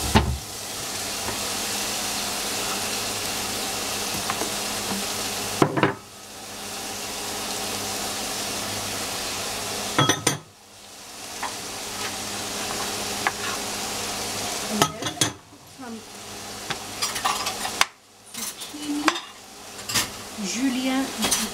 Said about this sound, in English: And cooking the cabbage.